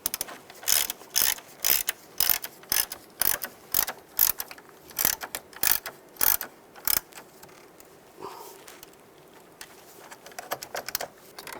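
A ratchet tightens a nut onto a stud while a transmission mount is replaced on a 2010-2017 Chevrolet Equinox, giving a steady run of sharp, close clicking bursts that slow and grow quieter near the end.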